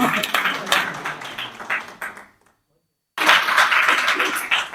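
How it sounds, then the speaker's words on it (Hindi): Audience applause at a Hindi poetry gathering in Bhopal welcoming poet Ranjan Sharma, a loud burst of clapping that fades into a brief silence before another strong round resumes. "जोरदार तालियां रंजन शर्मा जी के लिए।"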